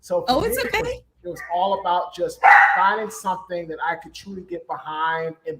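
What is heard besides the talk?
dogs barking in the background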